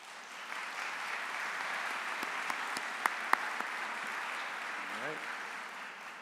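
An indoor audience at a county address applauds steadily for board of education members, a broad even wash of clapping with a few sharper claps standing out and no talking.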